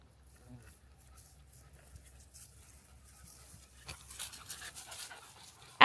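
A dog panting softly during obedience training at home, quick breathy pulses close by, with faint rustling and a brief louder burst at the end.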